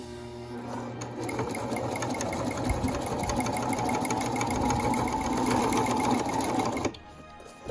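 A sewing machine stitches a Regency corset, running as a steady close whirring chatter for about six seconds before slowing and stopping.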